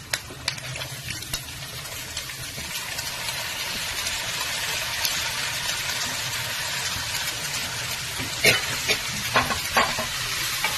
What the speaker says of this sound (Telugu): ఇప్పుడు ఈ పోపు దినుసులన్నీ వేగుతున్నాయండి. ఇప్పుడు మనం డైరెక్ట్ గా క్యాబేజీ వేసేస్తాం.